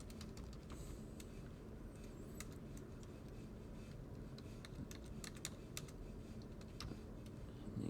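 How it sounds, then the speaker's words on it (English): Quick, light tapping of keys on a calculator, a steady irregular patter of small clicks, faint and close, with no talking. "which I can type in the calculator now"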